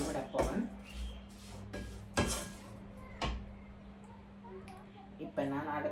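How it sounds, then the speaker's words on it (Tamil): Spoon stirring masala powder into beans in a pan, a few close scrapes and clatters against the metal at irregular intervals over a quiet background. "போட்டுட்டு இதை கிண்டி விட போகிறேன்"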